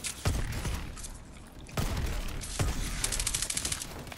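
Bursts of automatic gunfire and heavy thuds from the Call of Duty: Advanced Warfare video game, with sharp rapid volleys after a couple of isolated booming shots, fairly quiet overall.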